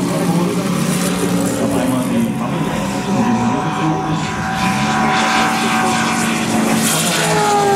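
A Corsair warbird propeller aircraft drones loudly and steadily overhead at an air show, its engine roar constant throughout with a faint whining tone riding on top.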